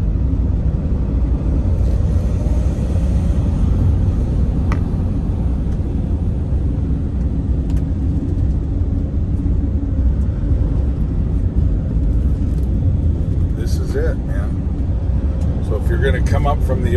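Steady traffic on Pacific Coast Highway in California, cars climbing up from the ocean, forms a continuous low road rumble with passing vehicles throughout, fairly loud and unbroken, with a faint higher whine near the end.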